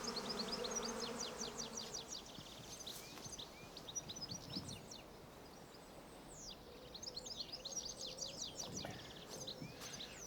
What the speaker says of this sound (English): a queen leaves the hive, taking her workers with her, which is why they've gathered like a sort of living cone, and there are thousands up there.